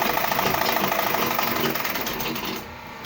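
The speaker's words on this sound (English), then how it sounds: "Lift your footer, then you sew." Close and steady, a sewing machine hums and rattles while sewing the corner of a single welt pocket, running continuously before easing off near the end, with no talking.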